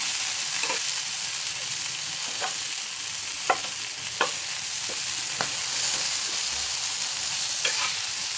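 Tomatoes and green chillies roast in a pan with a steady close sizzle, while a spatula scrapes and taps the pan now and then. No one speaks.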